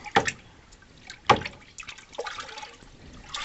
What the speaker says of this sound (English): I want to stir it up real good.